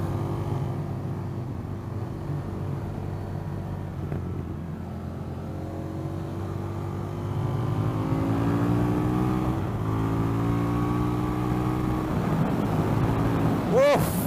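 An Indian FTR 1200 motorcycle engine drones at a steady idle, then revs up repeatedly in rising and falling sweeps as it accelerates, loud and close, with wind noise and a brief voice.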